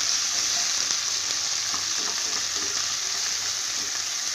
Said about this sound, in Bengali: পেঁয়াজটাও হালকা ভেজে নেব, খুব লাল করে ভাজবো না